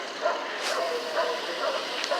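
A dog yips and whimpers softly several times in short, uneven bursts, close by, during a police response to reported gunshots in an outdoor neighborhood setting with low background noise.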